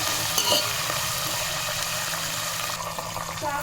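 Finely chopped green chillies sizzle and fry in hot oil for lemon rice, a steady crackling hiss with occasional stirring scrapes, close and alone without talk.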